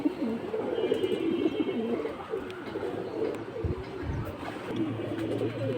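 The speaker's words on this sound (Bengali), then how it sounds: "এটা বেজি কবুতর ভাই মাদি" Pigeons at a pigeon market, including a female Beji pigeon, coo in steady low rolling calls close by, a continuous murmur with some rumbling background noise and no talking.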